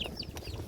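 A chicken clucks briefly in an open rice field, a short close call over a noisy outdoor background.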